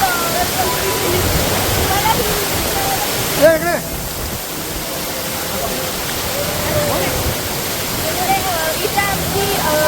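A river swollen with rainwater roars continuously, a dense steady wash of sound with one brief disturbance partway through.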